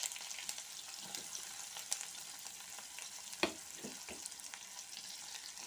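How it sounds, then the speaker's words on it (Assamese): Onions and green chilies fry in oil for a fish curry, producing a soft, steady sizzle with scattered crackles and a few clinks of stirring. The sound is quiet and close, with no talk. "এইখিনি ৰঙাকৈ ভাজি লওঁ।"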